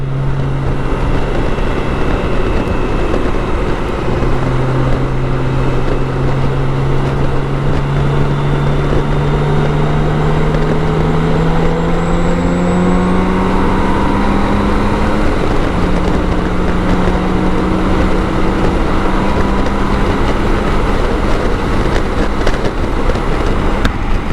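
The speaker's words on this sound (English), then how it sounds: "As you can hear, I'm getting buffeted around because there is a lot of wind" Heavy wind roaring around a rider on a BMW K1600 GTL motorcycle at speed, a loud continuous rushing buffet with the engine's drone rising and falling underneath, no voices.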